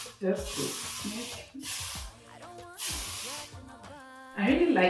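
Three bursts of hair spray hiss from a can misted over a lace wig, each lasting about a second, with a voice talking between and over them.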